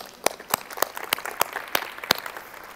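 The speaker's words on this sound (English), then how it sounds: "So give yourself a round of applause just for being here today." An audience claps at a talk, a short burst of scattered, fairly light applause with distinct individual claps at moderate distance.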